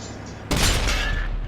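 Tank cannon shot against a Japanese Type 4 in World of Tanks, a sudden loud broadband blast that erupts after quiet game ambience and rolls on with a sustained rumbling decay.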